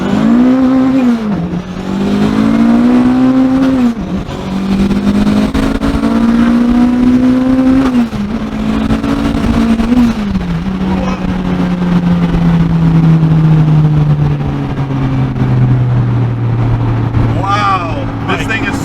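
Turbocharged all-wheel-drive Honda Civic EM2 pulling hard from first gear, its engine note climbing loudly through each gear with brief dips at the shifts, heard from inside the cabin under occasional voices.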